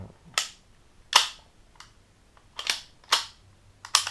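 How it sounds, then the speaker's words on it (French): Sharp metallic clicks from loading a replica M16A3 or Taurus PT92 airsoft gun, six crisp snaps spaced irregularly over a few seconds, close and clear with no talking. "quand vous le chargez, il y a un petit bruit métal, pas désagréable"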